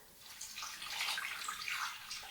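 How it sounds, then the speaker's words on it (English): Water poured from a container into a slow cooker pot holding lamb shank with herbs, a steady close splashing trickle lasting a couple of seconds with no talking. "So when you're pouring the water,"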